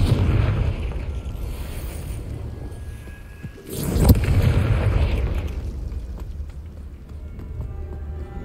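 A Confringo blasting spell explodes in Hogwarts Legacy, a single loud boom rising out of steady rumbling game noise, then fading back into the background.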